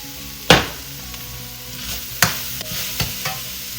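Ground pork for Sichuan mapo tofu fries in oil with leeks in a pan, a steady sizzle under a few sharp clanks of a utensil against the pan and lighter scraping stirs.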